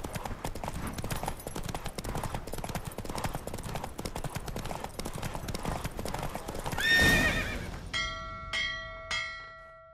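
Roach, the horse in The Witcher 3, gallops in a fast steady clip-clop of hooves, rising to a loud neigh before the run ends and ringing bell tones sound out in its place.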